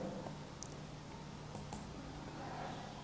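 A computer mouse is double-clicked to open Notepad, giving a few faint, sharp clicks spaced apart over a quiet room hum, with no talk.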